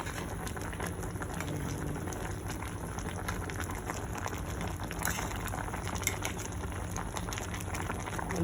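A pot of water boiling on a gas stove in a salon, with a steady close rolling bubble and crackle that stays even throughout, no voices.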